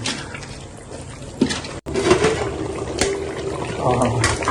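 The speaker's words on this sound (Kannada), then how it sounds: "ಇವಾಗ ಬಿಸಿನೀರು ಹಾಕೊಳ್ಳೋಣ" A steady rush of hot water pouring into a pot of cooked chicken for dum biryani, close by, with a brief clunk and continuous splashing flow.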